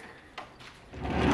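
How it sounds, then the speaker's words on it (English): A wooden pocket door in a house slides along its track with a soft rumbling scrape, building in loudness toward the end, with no one talking. "Before we walk into the kitchen, I have a pocket door."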